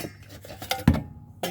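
A stainless steel baking pan being handled, giving one sharp metallic clank against faint clinks and rustle, with a short rattle near the end; no talking.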